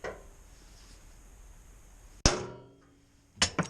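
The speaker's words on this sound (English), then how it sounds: "I'm going to put a center punch in it just because I think I probably should. As always, closest hammer is the best hammer." Hammer strikes on a center punch set into metal: one sharp, ringing clang stands out of quiet workshop air and decays slowly, then two quicker, lighter taps close the clip.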